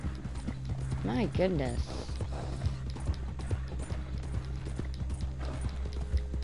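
Horse hooves in the Red Dead Online video game, a steady, close clip-clop rhythm of riding with a brief whinny early on, while someone talks briefly over it.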